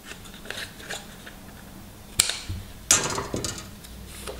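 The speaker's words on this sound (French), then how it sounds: "On coupe les angles." Scissors snip the corners off paper for a red-and-gold Christmas scrapbook album, giving two sharp, close cuts amid quiet rustling and small handling clicks.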